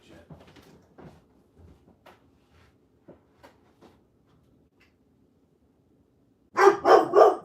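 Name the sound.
dog barking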